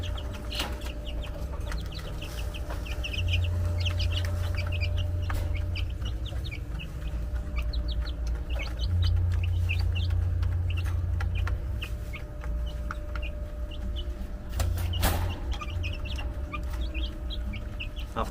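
Chickens cluck repeatedly around a home, with short clucks scattered throughout over a low steady background hum and occasional louder knocks, with no one talking.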